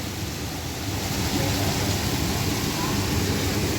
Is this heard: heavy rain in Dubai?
yes